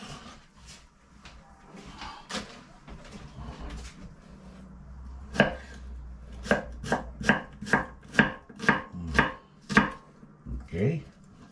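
An onion is being chopped with a knife on a board in a home kitchen. Sparse cuts come first, then a steady run of about a dozen sharp, close knocks in a quick, even rhythm, with no talk.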